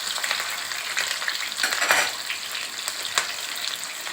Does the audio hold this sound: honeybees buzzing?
no